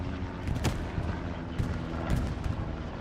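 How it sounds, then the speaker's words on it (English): A bombing run pounds the battlefield in a multiplayer war video game, a steady roar of heavy blasts and artillery thumps with several sharper explosions standing out, loud and dense throughout. "Bombing run going over."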